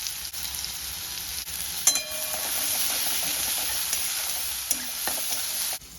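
Onions and green chilies fry in mustard oil with a steady close sizzle, broken by a few sharp clinks and scrapes of a spoon stirring the pan.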